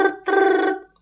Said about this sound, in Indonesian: Contoh ada telepon berdering.